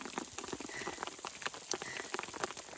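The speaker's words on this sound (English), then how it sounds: "It's hailing on me again." Hail pelts a hiker on the John Muir Trail in the High Sierra, a dense, irregular patter of sharp little ticks and taps close by, steady throughout with no voices.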